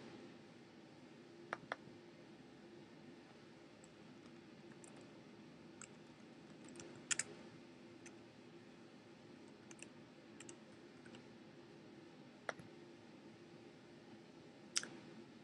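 Sparse, faint clicks of keys on a computer keyboard as a username and password are entered, isolated taps spread over a quiet background hum.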